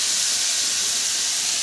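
Chicken momo filling, seasoned with green chilli and black pepper, sizzles and hisses steadily as it fries in a pan, a loud, constant close-up crackle with no voices.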